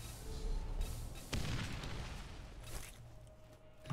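A grenade goes off in the shooter game Borderlands GOTY Enhanced, a deep rumbling boom with a sharp crack near the middle. The noise stays dense and loud for the whole stretch.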